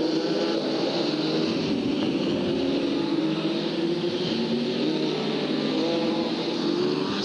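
F2 racing cars at Hartlepool in 1993 drone down the back straight, a continuous high engine whine rising slowly in pitch as they accelerate, heard from a distance without letting up.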